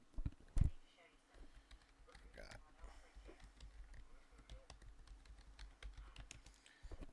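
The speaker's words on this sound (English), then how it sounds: "Some nice typing sounds." Typing on a computer keyboard, a steady patter of key clicks running through most of the stretch, with someone talking over it at times.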